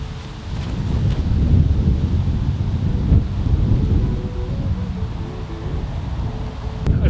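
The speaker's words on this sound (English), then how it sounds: "The headwind's starting to pick up a little bit" A rising headwind blows across an open disc golf course, a loud low rumble of gusts buffeting the microphone that swells and eases steadily for several seconds, with no talk.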